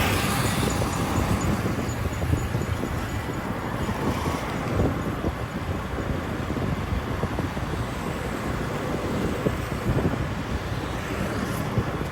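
Strong wind roars against the microphone while riding along a road in Laos toward Route 13 at dusk, a steady, loud, unbroken rush with no voices.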